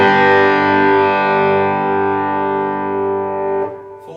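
A Chapman Norseman electric guitar on its bridge pickup through a Boss Katana amp: one loud, bright chord rings out steadily for several seconds, then is cut off and fades, with no talking.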